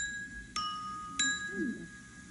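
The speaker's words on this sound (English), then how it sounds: "First, some tiny bells." Two small bells ring out a second apart, bright clear tings that linger faintly over a quiet background.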